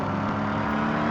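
A BMW engine holds a steady, close, mid-pitched drone with a constant level, briefly and evenly, with no talk over it.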